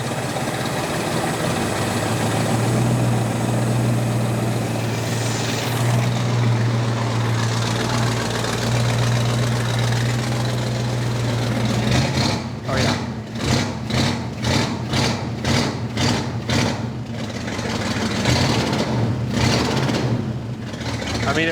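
A 1966 Ford Mustang V8 pulled from a junkyard idles with a steady low rumble, then revs repeatedly in quick, loud bursts that rise and fall, with someone speaking briefly over the engine.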